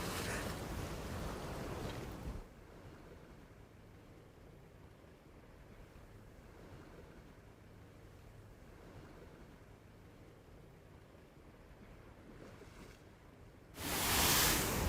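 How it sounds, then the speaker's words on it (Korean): Wind and ocean swell at sea during a rock fishing trip for longtail opal-eye, a steady broad rush of wind and surging water with heavier, louder gusts at the start and end. "바람 불고 너울 치고"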